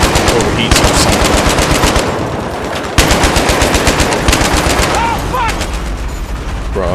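A mounted machine gun in the video game Battlefield 3 fires long, loud, rapid bursts of automatic fire with a brief break near the middle, the crackling reports dense and close with other battle noise around them.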